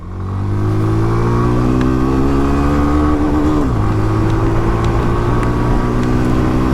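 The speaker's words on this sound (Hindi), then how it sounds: "देखिए फुल थ्रॉटल मैंने खोल दिया यहाँ पे" A 2025 Hero Glamour X motorcycle is held at full throttle, its loud, close engine drone climbing steadily in pitch, dropping briefly at a gear change midway, then rising again.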